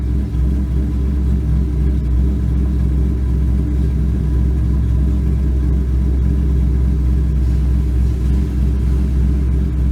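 Steady low engine rumble from inside a moving ZL1 car, constant and droning throughout with no voices.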